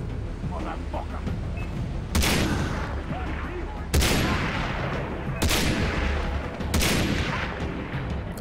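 Gunfire in the video game Far Cry: four sharp, loud shots fired a second or two apart, each followed by a short decaying echo over a steady low ambient rumble.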